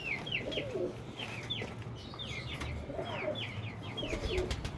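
Domestic pigeons coo in repeated, rhythmic bursts, fairly close, over a low steady background hum with no voices.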